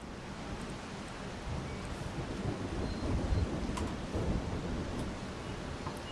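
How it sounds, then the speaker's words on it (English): A thunderstorm weather effect in the Solarpunk video game carries a constant rain hiss with a low rolling thunder rumble that swells in the middle, fairly loud and steady. "We gotta kind of wait for the rain."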